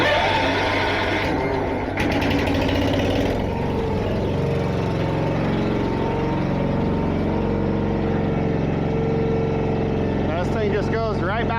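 A truck engine starts back up and runs steadily at a low rumbling idle to raise a vehicle lift, continuous and close, with a brief rattle near the start and some faint high chirps toward the end.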